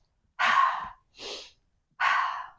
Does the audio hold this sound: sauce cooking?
no